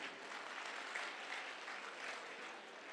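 An audience at a motivational event breaks into sustained applause, a dense even wash of clapping from many hands that carries on throughout without speech.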